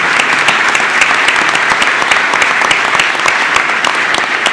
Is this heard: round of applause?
yes